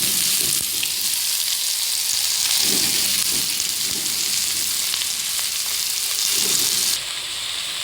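Onion, ginger, green chilli and coconut fry in hot oil for a Thrissur-style pork fry, producing a steady, close sizzle with occasional stirring bumps that drops in level near the end.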